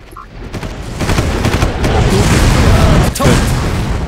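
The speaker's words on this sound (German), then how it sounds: "Da ist was explodiert." A loud, sustained rumbling blast with broadband roar, building after the first second and holding steady, like an explosion in the video game Far Cry with crackling debris.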